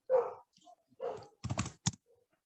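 Keys on a computer keyboard clack in a quick burst of about four strokes, following two short yelping sounds, close and fairly quiet with gaps of silence.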